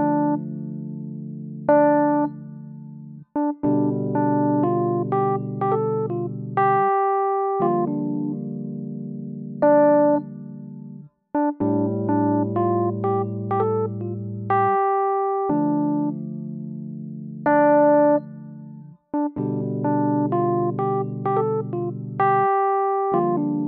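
Piano riff played with both hands, the left hand adding low sustained notes under repeating chordal figures in a steady, loud phrase that loops several times.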